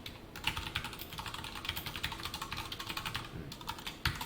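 Steady, fast typing on a computer keyboard while writing Java code, a quiet close patter of key clicks with a few firmer strokes.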